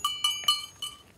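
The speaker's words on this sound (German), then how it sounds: "der Seppi, unser Bock, also das ist ein kastrierter Bock, der will einfach immer gestreichelt werden" A castrated buck goat gives a series of short, nasal bleats, about five calls in quick uneven succession, close and clear with no talk.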